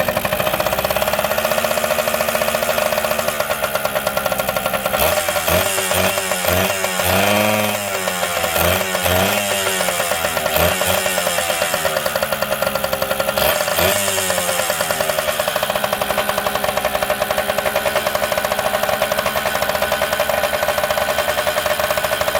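A Harvey Spooner KD80 engine runs steadily and loudly close by just after starting from cold, having sat unused and smoking a little. It gives a continuous chugging drone with some uneven knocking and rattling in the middle.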